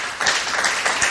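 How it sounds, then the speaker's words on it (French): An audience claps for itself, a short, fairly loud burst of uneven applause from a modest crowd. "je demande à vous qui êtes là de vous applaudir encore vous-même"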